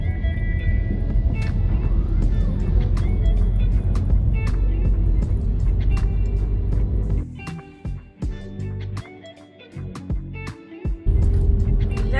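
Cars in Easter road traffic on the Amalfi Coast rumble past close by, with a steady engine roar that drops and wavers near the end as vehicles come and go, and no talking.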